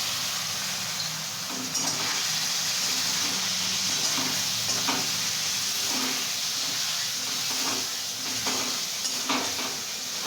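Spiced sour yogurt mixture poured into a hot pan for cauliflower roast sizzles loudly and steadily, with intermittent stirring scrapes and clinks, no talk.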